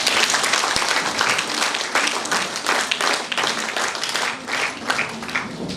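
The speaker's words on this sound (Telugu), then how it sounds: "జస్టిస్ గారికి ఒకసారి చప్పట్ల ద్వారా అభినందించవలసిగా కోరుతున్నాను" An audience at an International Women's Day event claps for a Justice, giving a steady round of applause with individual claps standing out, lasting several seconds.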